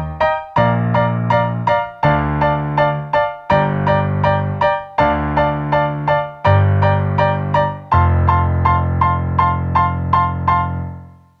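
Piano plays the chorus of a song, with steady repeated right-hand chords over sustained bass notes in a bright, even rhythm that ends on a long held chord, played alone.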